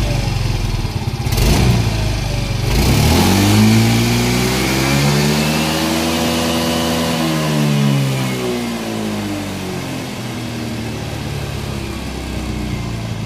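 Yamaha M3 scooter engine with a fresh remap revs hard in a cramped spot, pitch sweeping up past the stock limit and falling back, loud and close with a steady idle before and after.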